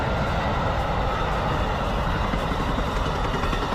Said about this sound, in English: The 98 Silver Meteor, blazing its way through the beautiful countryside of Florida